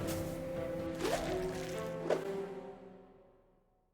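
A rumble effect sound-designed for Hollow Knight, processed with a tape plugin and a heavy compressor, sounds as a dense low drone with two sharp hits about a second apart. The whole thing then slowly fades out.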